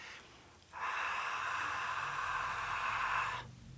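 A single long breath, drawn slowly and evenly while hands rest on a loved one to share energy. It is soft and close, lasting about three seconds, with no talking.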